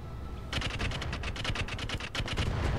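Gunfire in the tactical shooter game Roguepoint: a sudden burst of rapid automatic shots, about a dozen quick cracks in a rolling rhythm lasting a couple of seconds, fairly quiet over a low background hum, without talk.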